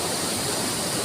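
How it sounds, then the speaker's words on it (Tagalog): Strong water current rushes loud and steady beneath a bridge after a day of heavy flow, a dense unbroken roar close by with no voices. "Malakas yung alon ng tubig kasi mulan kahapon"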